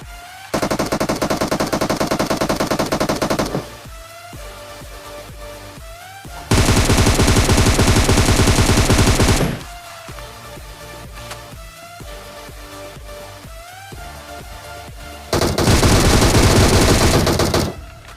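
Sustained automatic gunfire in the mobile shooter PUBG Mobile comes in three long, loud bursts separated by quieter stretches of game ambience.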